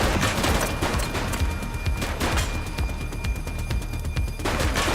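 Dense, continuous gunfire from a police action game set in a city, with rapid overlapping shots and bursts forming a loud, sustained fusillade throughout, near and without talk.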